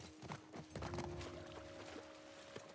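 Horse hooves clop faintly and unevenly in The Last of Us Part 1, the soft steps sitting under a quiet sustained musical tone.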